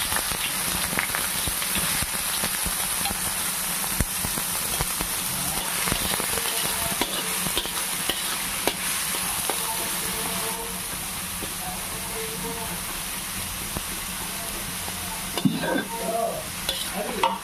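Chopped large onions sizzle steadily in a generous amount of oil in a big pan, a continuous loud frying hiss with occasional stirring scrapes and clinks throughout.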